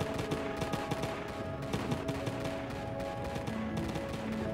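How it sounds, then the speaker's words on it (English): A tactical shotgun fires repeatedly in the Roblox game Zombie Attack, rapid sharp gunshot bursts in a fairly steady rhythm over a dense, busy background of game noise, moderately loud throughout. "Fire tactical shot! Boom! I got a tactical shotgun this time!"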